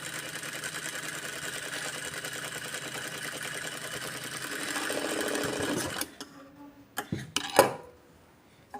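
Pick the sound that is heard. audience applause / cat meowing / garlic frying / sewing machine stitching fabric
sewing machine stitching fabric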